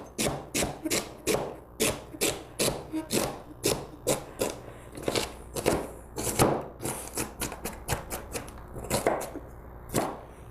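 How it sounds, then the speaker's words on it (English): A knife finely chops celery almost to a dice, striking in a steady, quick rhythm of about two cuts per second, close and distinct with no talking. "So I'm going to chop that up. And it's a real fine chop, almost diced."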